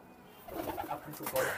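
Pakistani pigeons coo at a bird sale, a soft, rounded cooing that rises after a quiet start and repeats in a few close, moderately loud phrases.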